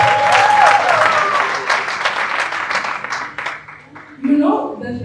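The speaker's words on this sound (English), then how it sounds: "we need to give a round of applause to our performance" An audience breaks into loud, sustained applause after a performance at a pre-hearing and consultation gathering, the clapping tapering slightly before a short swell of voices and cheers at the end.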